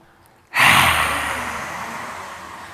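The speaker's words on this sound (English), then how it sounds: "exhale" A single forceful exhale during a breathing exercise for boosting the immune system, a sudden loud breathy rush of air that fades slowly over a couple of seconds, heard alone with no talking.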